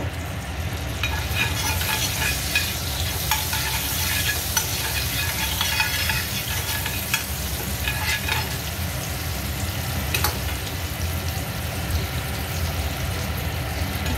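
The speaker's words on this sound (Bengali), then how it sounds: "এবার গ্যাসটা আমি অন করে দিয়েছি। এর মধ্যে আমি অল্প একটু বাটার অ্যাড করব।" Butter heats in a pan for butter paneer on a gas stove, giving a steady, even sizzle throughout with faint scraping and stirring ticks.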